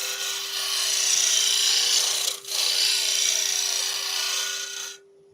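A hand tool cuts wood turned on a lathe, giving a continuous close rasping shave over a steady motor hum, with a brief dip near the middle before the sound cuts out.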